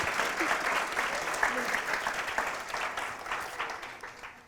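An audience applauds warmly to welcome a jury member onstage, a dense, steady wash of clapping that carries on for several seconds and fades slightly at the end.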